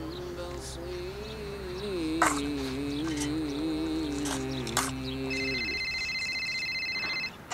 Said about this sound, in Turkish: Kimin telefonu çalıyor?